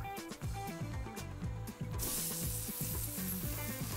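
Seasoned, flattened chicken laid down in a hot pan, hissing in a steady sizzle that rises into a brighter, louder spatter partway through, under light background music with no talking.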